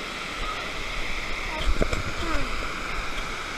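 Turtleback Falls, a waterfall where people jump in, roars with a loud, constant rushing and splashing of water, with faint voices around it.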